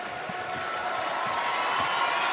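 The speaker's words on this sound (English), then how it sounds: "And here comes the crowd." A basketball arena crowd roars at the close of the 2023 Summit League Tournament championship between South Dakota State and Omaha, a dense, steady wall of loud cheering with faint dull thumps underneath, likely a ball being dribbled.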